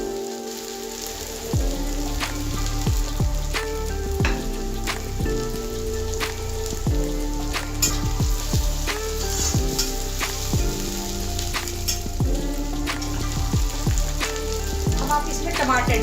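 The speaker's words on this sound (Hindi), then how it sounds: "प्याज को हल्के से भूनेंगे बिल्कुल थोड़ा सा, थोड़ा कलर चेंज हो जाए इसका।" Onion sizzles steadily in a hot pan for Mumbai-style pav bhaji, a loud continuous frying crackle with occasional stirring scrapes and clicks, and no talk over it.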